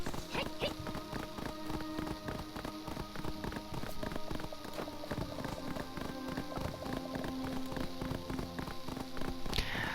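A horse gallops in the online game Black Desert Online, its hooves beating a quick, even rhythm throughout under a busy game soundscape.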